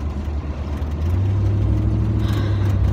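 Car driving noise heard from inside while on the road, a continuous engine hum and tire rumble that firms up into a steadier low drone partway through, with no talking.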